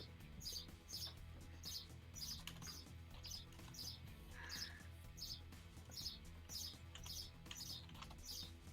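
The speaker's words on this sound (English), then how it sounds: "Oh, that bird." A bird chirps in repeated, evenly spaced high tweets that run through the whole stretch. The calls are faint and sit over a low background hum.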